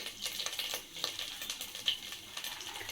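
Crushed green and black cardamom and ginger hitting a hot pan for Bengali sweet pulao, giving a soft, steady sizzle with light stirring scrapes, fairly quiet and close.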